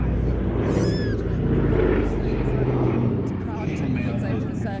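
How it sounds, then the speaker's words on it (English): A B-24 Liberator bomber roars past at an air festival display, its broad engine drone loud and steady throughout with a rising and falling pitch as it passes, crowd and commentary noise mixed underneath. "Machine guns, tail turrets, the B-24 Liberator. Beautifully demonstrated there by Barry Piper."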